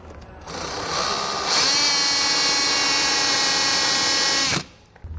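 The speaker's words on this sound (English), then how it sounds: "I'm just going to drill a small hole allowing that wire to come through." A power drill boring a small wire hole during a battery disconnect installation on a 2016 GMC Canyon spins up and whines steadily for several seconds, close and loud, then stops abruptly.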